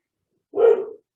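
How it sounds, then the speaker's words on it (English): A dog gives a single short, sharp bark close by in a quiet indoor room, with silence before and after it. "my dog is just barking there, telling everyone to be quiet"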